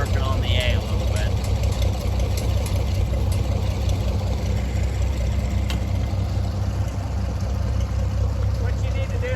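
A tractor engine idles and runs steadily as it is driven down a trailer ramp, a loud continuous low drone throughout with a faint higher whine.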